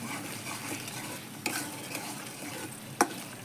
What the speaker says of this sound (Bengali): মশলাটা ভালো করে ফ্রাই করে নেব।